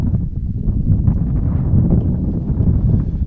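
Steady wind buffeting the microphone at an outdoor soccer match at the 2016 Jeux du Québec, a constant low rumble filling the whole clip with no voices.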